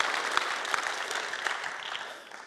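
A church congregation claps together in a dense, steady round of applause that tapers off toward the end, heard alone with no talking.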